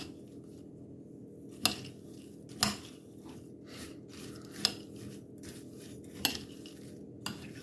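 Spices being stirred into oiled pumpkin seeds in a bowl, with a utensil scraping and clinking against the bowl in a series of sharp, irregular taps over a quiet background.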